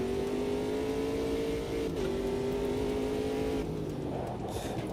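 Ginetta race car in the Automobilista 2 sim racing game, engine droning loud and steady at high revs, then dropping pitch and shifting near the end as the car slows or changes gear.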